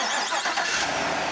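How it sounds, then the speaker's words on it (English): A 2017 Chevrolet Silverado Redline Edition pickup starts by remote start, its engine turning over and settling into a steady broadband running rumble, close by and alone, with no voices. "And then the vehicle starts right up to you."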